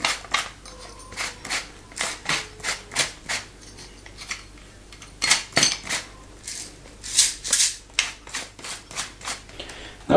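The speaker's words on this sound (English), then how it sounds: "Now we have all the ingredients in. I'm just gonna mix it together." Strawberry-jalapeno salmon marinade ingredients, with cracked pepper, being mixed in a bowl: a steady run of close clinks and scrapes of utensil against dish in quick rhythmic strokes, with a few louder bursts and no voices.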